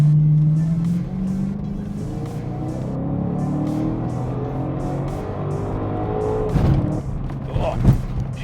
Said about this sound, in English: this exhaust is pretty quiet too for a V8